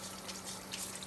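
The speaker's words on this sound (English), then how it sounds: "I've got the water on." Water runs from a kitchen tap in a soft, steady hiss, faint and continuous throughout.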